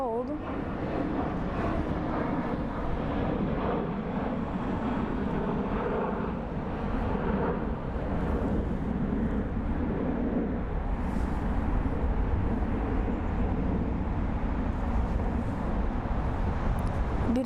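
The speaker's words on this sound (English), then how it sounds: "coming up, we have Untitled Airlines and a future promise livery headed to Tokyo 787-9 Dreamliner, 8 years old." A Boeing 787-9 Dreamliner airliner, eight years old, at Frankfurt airport, producing a steady broad jet-engine roar that stays loud and constant throughout with no talk.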